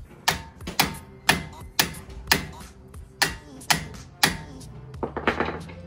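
A hammer strikes the brake rotor of a big-turbo Genesis Coupe to free it during a big brake kit install. About ten sharp, ringing metallic blows land in a steady rhythm, with a quicker cluster near the end, close and loud, and no talk.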